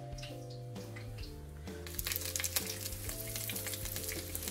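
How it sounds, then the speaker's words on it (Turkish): Breaded spring-roll börek frying in oil, a steady close-up sizzle and crackle under soft background music, growing busier and more bubbly partway through as the rolls are turned. "Böreklerin hepsini alt üst kızartıyoruz."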